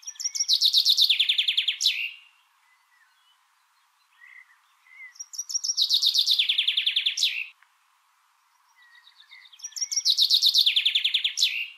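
A common chaffinch sings three times, each phrase a bright descending trill that speeds up into a roulade and closes with a sharp flourish. Clear, close and alone, with pauses between songs.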